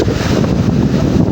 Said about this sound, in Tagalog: malakas ang habagat mga idol